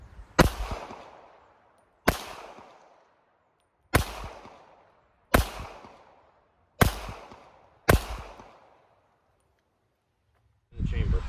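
.380 compact pistols (Smith & Wesson Bodyguard, Sig Sauer P238, Ruger LCP Max) fire at targets: six sharp, loud shots spaced about one and a half to two seconds apart, each ringing out briefly, followed by another burst of noise at the end.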